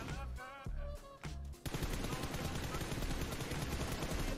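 Rapid automatic gunfire in a PUBG Mobile match: a few separate shots, then a sustained loud burst of continuous fire filling the rest of the clip, with brief speech near the start.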